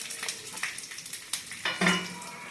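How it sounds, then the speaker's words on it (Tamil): Mustard seeds, urad dal, curry leaves and a red chilli tempered in hot oil, giving brief soft sizzles and popping crackles with light pan clinks, close and quiet, no talk. "கடுகு, உளுந்தம்பருப்பு, கருவேப்பிலை, ஒரே வரமிளகாய் சேர்த்து தாளிச்சுட்டு இருக்கிறேன்."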